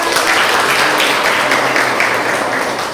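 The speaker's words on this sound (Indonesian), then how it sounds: "beri tepuk tangan untuk teman kita" Schoolchildren in a language class applaud a classmate, a steady, loud wash of clapping from the whole room that holds evenly and eases slightly at the close.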